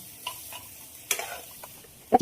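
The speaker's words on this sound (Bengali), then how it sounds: "ধনে গুঁড়ো, জিরে গুঁড়ো দিয়ে আবারও খুব ভালো করে নাড়বো মশলাটা কষানোর জন্য" A spoon stirs ground coriander and cumin into masala frying in a pan for chicken do pyaza. There is a faint sizzle, a few scattered scrapes and taps, and one sharper clink near the end.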